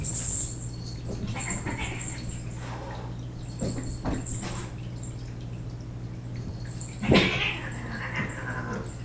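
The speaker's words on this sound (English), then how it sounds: "Wow, those cats. Don't know if you can hear that" Cats meow and caterwaul somewhere in the room, giving scattered cries and one louder yowl near the end over a steady low hum.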